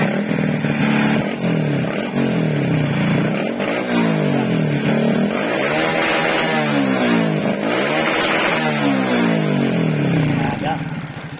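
A Raider J115 Fi motorcycle engine with a dual ignition coil fitted runs loud and close, repeatedly revving up and dropping back in pitch, while someone talks over it.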